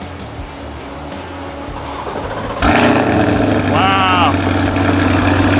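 A Chevrolet Corvette, the 2025 ZR1, fires up from a cold start with a sudden loud engine burst, then settles into a steady, throaty idle close by, with a brief rising whine and a voice exclaiming over it.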